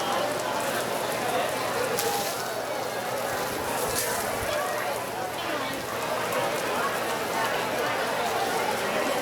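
Steady rain falls throughout, a dense continuous hiss of drops on surfaces at an outdoor wedding, with people talking and chattering underneath.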